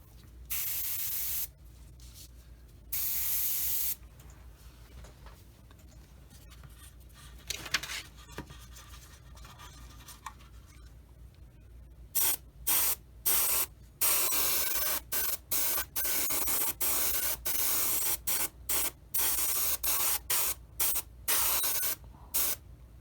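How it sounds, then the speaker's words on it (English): An airbrush sprays gray paint onto model tank parts in short hissing bursts, two early on and then a rapid series of stop-start bursts, each spurt lasting about a second, close and fairly loud. "spray everything else on the upper portions"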